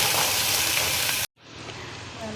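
Chopped onion frying in a pan while making catla fish kalia: a loud, dense sizzle that cuts off abruptly, then resumes more softly, with no talking.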